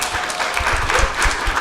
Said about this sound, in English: So one more round of applause for these amazing,